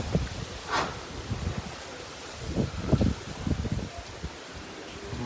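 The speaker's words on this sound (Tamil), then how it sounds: "வேற லெவல் காற்று." Strong cyclone wind tears through trees in Chennai with no rain, a rushing roar of thrashing leaves that swells in gusts and eases off again.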